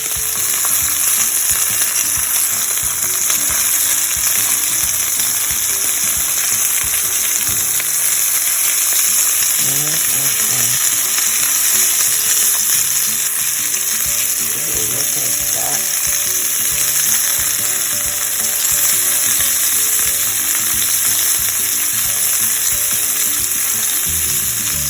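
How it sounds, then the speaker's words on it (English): Breaded chicken breast sizzling in a lightly oiled grill pan, a loud, constant crackling hiss with occasional scraping clinks of a utensil against the pan, no voices. "Listen to that sizzle."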